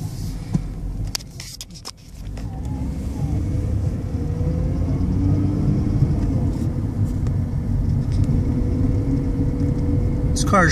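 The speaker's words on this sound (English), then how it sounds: "Unless you hear the AC run now," A 2001 Mercury Cougar idles nearby with a steady low engine rumble and hum, with a few faint clicks at the start and a brief noise near the end.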